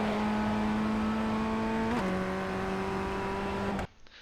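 A Ray FF1600 Formula Ford engine in iRacing climbs steadily and loudly, upshifting once into fourth with a brief pitch drop before pulling on, then cutting off abruptly near the end.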